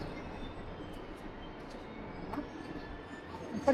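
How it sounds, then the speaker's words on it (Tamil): A train pulling into a station in South Korea, a steady low rumble of rolling carriages with faint rail squeals, moderately close and without talk. "இதாங்க அந்த ட்ரெயின் வந்துருச்சு."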